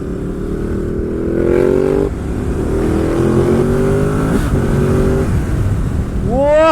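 A 2020 Ducati Supersport S motorcycle is being ridden, and its engine note drones loudly as the rider gears up through acceleration. Near the end the revs rise sharply and fall again, with wind rushing throughout.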